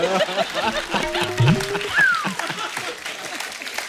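Studio audience applause for Kiara on The Kapil Sharma Show, a comedy talk show, forming a steady clapping wash with scattered laughter and a host's voice talking over it.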